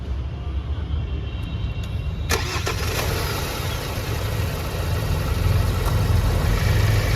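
A turbocharged car engine cranks and fires up partway through during an underboost diagnosis, then settles into a steady, loud idle that continues to the end.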